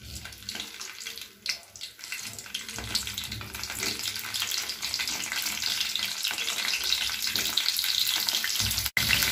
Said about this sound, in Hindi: तेल हमारा गर्म हो चुका है, इसमें डालेंगे बैंगन और इसे फ्राई कर लेंगे।